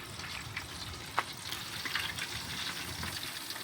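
A turkey is lifted slowly out of hot frying oil, giving a continuous hiss and sizzle broken by a sharp splatter pop and several smaller crackles, heard close up with no talking.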